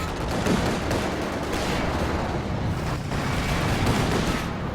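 Gunfire crackles steadily through a dense Company of Heroes 2 battle, shots layered with engine and combat noise at moderate loudness, with no talk.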